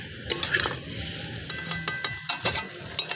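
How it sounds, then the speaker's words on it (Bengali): Chicken and potatoes are stirred and sautéed in a pot for bamboo biryani, with a soft sizzle and repeated scraping clinks of a spoon against the metal. "ভালো করে আমরা কষিয়ে নেব।"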